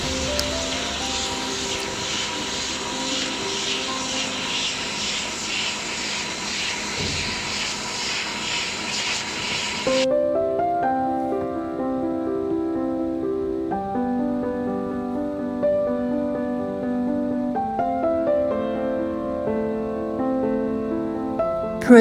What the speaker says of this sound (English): our CNC wood rotary cutting machine